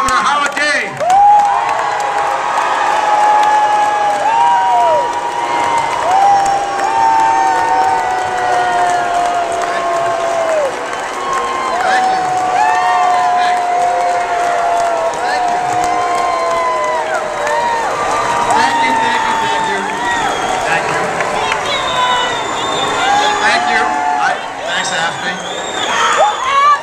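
Large rally crowd cheers, whoops and screams continuously, a dense loud roar of many voices with shrill yells and applause rising and falling throughout.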